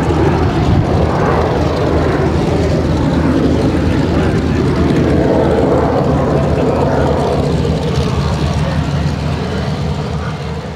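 WWII propeller aircraft, including a Boomerang, Spitfire and Kittyhawk, taking off at an air show display: a loud, steady, continuous piston-engine roar filling the clip with no break.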